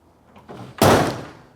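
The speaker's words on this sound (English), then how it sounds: "Door shuts nice, no issues there." A 1969 Ford Mustang convertible's door swings and shuts with one solid, heavy thunk after a soft rustle, close by.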